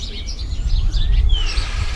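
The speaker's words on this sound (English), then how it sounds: "I've got a lot of sparrows" Sparrows chirp high in big backyard trees, several thin calls and sweeping tweets scattered over two seconds above a steady low rumble of outdoor background noise.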